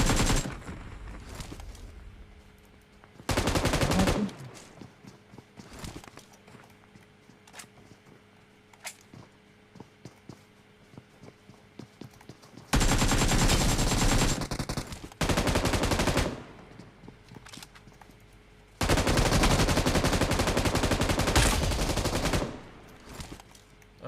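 Bursts of AK fire in the battle-royale game PUBG Mobile, tournament play. Several loud, sustained automatic volleys of a few seconds each alternate with quieter stretches of scattered single shots.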